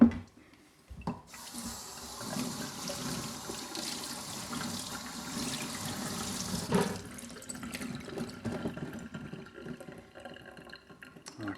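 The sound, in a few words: rinsing a telescope mirror under running tap water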